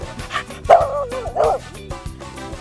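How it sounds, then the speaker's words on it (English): A beagle named Banjo gives a few short, yelping howls and whimpering barks outdoors, the loud cries coming in uneven bursts with gaps between them. "So Banjo is a beagle, so he likes to howl."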